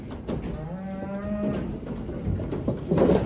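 Cattle being moved into a fresh straw pen moo loudly and close by, one long drawn-out low call followed by further lowing and rustling, with no talk over it.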